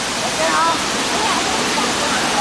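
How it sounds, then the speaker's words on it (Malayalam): Krang Shuri waterfall in Meghalaya roars as a broad, constant rush of water falling from a good height, loud and near, steady throughout with no pauses. "അത് വെള്ളച്ചാട്ടം നേരെ വന്ന് നല്ല ഹൈറ്റിൽ നിന്നാണ് ചാടുന്നത്"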